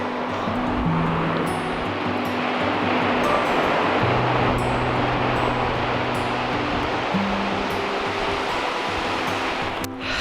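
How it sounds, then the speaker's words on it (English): Small ocean waves breaking on a California shore, a steady rushing wash of surf close by, with wind and a low engine hum in the background and no talk. "waves are a little tiny for surfing"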